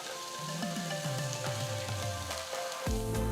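Chopped onion, garlic and red chillies sizzle in hot oil in a pan with a steady crackling hiss, broken by a few soft knocks and scrapes of stirring.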